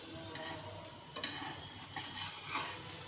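A thick stuffed paratha cooking in a pan over high-to-medium flame, a soft steady sizzle with faint scraping and light ticks, close and quiet, no voices.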